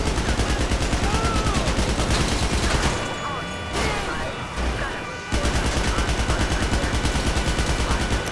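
Rapid, dense gunfire and bursts of automatic fire from a shooting video game running during a gaming PC versus gaming laptop performance test, loud and continuous, dropping briefly in the middle before resuming, with no talk.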